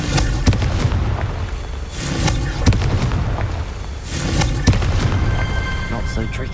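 Confringo spell blasts in the Hogwarts Legacy video game, heard as several loud booming bursts at close range that follow one another within a few seconds over busy game noise.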